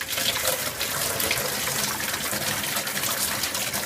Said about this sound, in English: a lot of pretty substantial water pressure